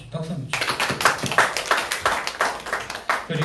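Congregation applauding during a church service to celebrate a member's birthday, a dense, steady burst of clapping close by that continues throughout.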